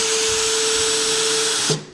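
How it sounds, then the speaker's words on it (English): A power drill drives screws back into a wooden swarm trap, its motor whining loud and steady for most of the stretch before cutting off and winding down near the end. "Now he's gonna drill them back in."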